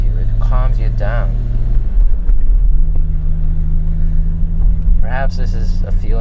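Deep, steady engine drone of a BMW E34 M5 cruising, a continuous low rumble whose pitch shifts slightly midway, with someone speaking over it at the start and end.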